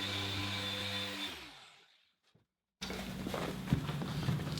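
A machine polisher works on a plastic 4x4 tail light, whirring loudly then spinning down to silence, before the whirring motor and rubbing texture start again close by; no speech.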